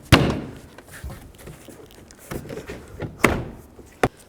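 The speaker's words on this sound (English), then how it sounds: "And then push the door panel." Car door panel on a 2004-10 BMW X3 pressed onto its clips, giving a few sharp plastic thumps and knocks spaced across the moment, close and fairly loud with quieter handling noise between.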